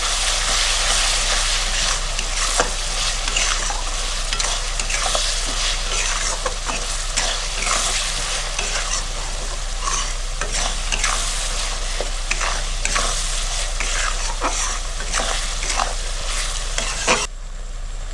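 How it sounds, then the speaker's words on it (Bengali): Spice masala for chicken kosha sizzles steadily in hot oil while a spoon stirs and scrapes through it, producing a dense, continuous frying hiss with repeated scraping strokes, close and loud, with no talking. "5 থেকে 6 মিনিট আমি ভালো করে কষাই নেব মশলা।"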